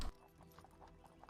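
Horse hooves clip-clop in a steady, even rhythm from a played soundtrack, quiet and somewhat distant, with a brief thump at the very start.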